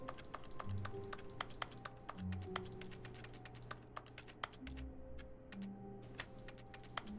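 Computer keyboard typing in the video game The Stanley Parable, a steady run of crisp key clicks over a soft ambient drone with low music notes underneath.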